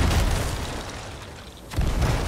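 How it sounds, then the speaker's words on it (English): Ship cannons firing during a pirate battle in Sea of Thieves, heavy booming blasts, loud and close, that fade briefly and then return. "Because of their cannons."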